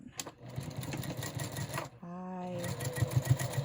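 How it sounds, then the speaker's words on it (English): A sewing machine stitches quilt block pieces together, with a steady close mechanical whir and needle rhythm running through the clip, a short pause near the middle, then a higher motor hum and a few louder thumps. "bring those other pieces over and sew them right on"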